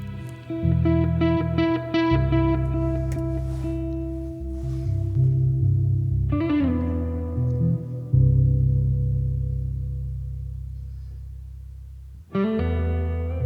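A song plays its ending, with sustained, echoey, effect-laden guitar chords that ring out and decay, broken by a couple of struck, reverberant chord changes, loud and without talk.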